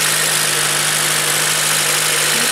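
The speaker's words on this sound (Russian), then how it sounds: "Вот тут сильно мотор газит." A motor runs loudly and steadily near a cellar dug out for repair, a constant heavy engine drone with no clear rise in revs, and no one speaks.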